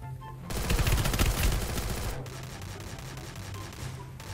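Gunfire in the mobile battle-royale game Free Fire, a dense sustained burst of rapid automatic shots that cuts off after a couple of seconds, leaving a busy game background.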